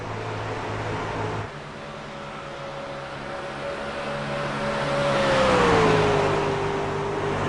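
Race cars in the Kentucky 150 at a speedway: a steady engine roar with a whining tone that rises and sweeps downward as a car accelerates past, loud and continuous throughout.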